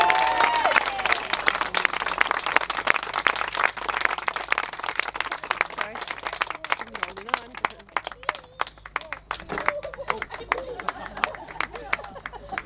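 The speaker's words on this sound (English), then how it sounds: "Jo, and everyone, can we another round of applause for Jo?" Party guests give a round of applause after a speech, clapping dense and lively at first and then thinning to scattered claps amid chatter and voices.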